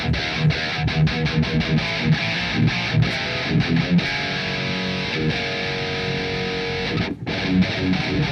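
An electric guitar through a high-gain, twangy amp simulator plays a distorted riff of chugging palm-muted notes and sustained chords, close and dry with a short dropout near the end.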